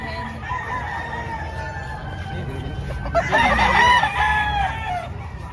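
Hens at a poultry market in Padre Garcia, Batangas, give close, loud clucking and a rising crowing squawk over a noisy background, with faint voices of people around.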